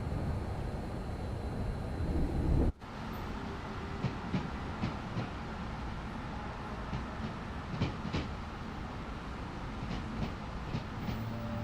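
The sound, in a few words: train running on rails in Train Sim World 6 video game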